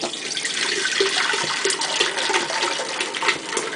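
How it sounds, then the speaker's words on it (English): Fizzy liquid is poured into a Vitamix blender jar while making mixed berry lemonade with fruit: a steady, close splashing and gurgling pour that runs throughout, with no talking. "what I'm going to go ahead and do is pour the liquid in here"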